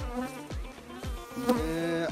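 A steady close honeybee buzz hums throughout at a beekeeping site, with regular low thumps about every half second underneath; no one speaks.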